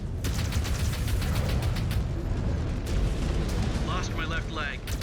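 In the MechWarrior 5: Clans video game, a mech is destroyed in a loud, continuous barrage of explosions and weapon fire, with rapid crackling bursts and radio-style voice chatter over the battle din.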